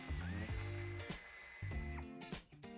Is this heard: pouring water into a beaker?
no